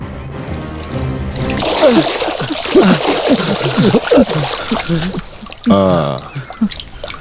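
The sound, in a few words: water poured on a sleeping person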